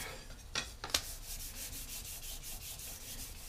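A spoon is rubbed with 1000 grit sandpaper, giving quick, soft rhythmic scratching strokes, a few sharper swipes early on, then an even, faint back-and-forth rasp close to the ear.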